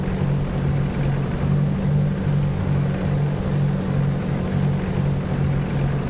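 A Vicon rotor spar power-driven spading machine runs steadily, giving a continuous mechanical drone with a faint, regular pulsing beat, heard alone at moderate level.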